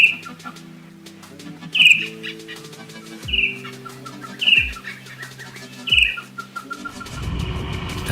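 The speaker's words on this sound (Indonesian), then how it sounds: "dapat mendengar suara burung arisan" Birds on Pulau Breueh island in Aceh give repeated short high calls at regular intervals, with soft rustling and low thumps between them and a brief burst of noise near the end.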